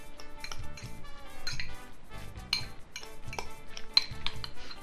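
Corn stirred into burrito filling in a container, giving close clinks, scrapes and knocks of utensil against the vessel in an irregular run, with no talking.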